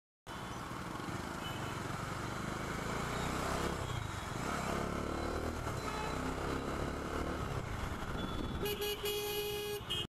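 A motorcycle riding along a city road in Hyderabad, a steady engine drone with traffic noise around it and a brief horn-like tone near the end, no one talking.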